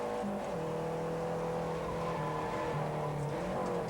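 Renault 5 Elf Turbo race cars from a 1987 UK Cup race roar past in a steady, loud blast of engine noise, with a sustained high whine and slight pitch shifts as they accelerate close by.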